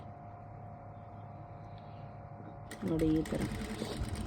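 Sewing machine stitching along a curved border of fabric, its motor whirring quietly and steadily, then a brief louder burst near the end as a voice speaks over it.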